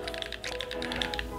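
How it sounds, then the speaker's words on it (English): The D-pad on a BIGBIGWON Rainbow 2 Pro game controller gives rapid, close, crisp clicks that sound like mechanical keyboard keys, pressed in a quick irregular run with no talking. "The D-pad sounds like it's mechanical keys, and D-pad's good."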